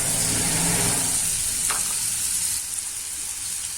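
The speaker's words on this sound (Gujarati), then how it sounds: "એકદમ એકરસ થઈ જાય ત્યાં સુધી આપણે ધીમે ગેસે ચડવા દેવાનું છે" Tomato simmering on a low flame in a pan for a Kathiyawadi guava curry, giving a steady close hiss of frying that eases slightly toward the end, with no talking.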